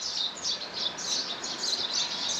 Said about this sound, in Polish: Jeszcze jak tam cała ferajna ptaków jest na tych drzewach.